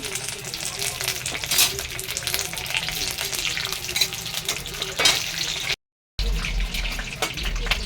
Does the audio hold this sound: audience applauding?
no